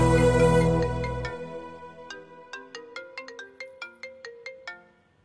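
A mobile phone ringtone plays a repeating melodic pattern of bright, evenly spaced tones, clear and close, following a fading swell of music, with no talk over it.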